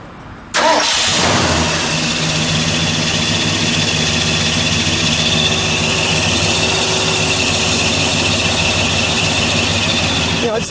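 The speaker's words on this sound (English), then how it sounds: "Let's fire it up, shall we?" A 1972 Ford Galaxie 500 with a 351 V8 and dual exhaust cranks and catches after a brief quiet start, then settles into a loud, steady idle close by with a faint squeal.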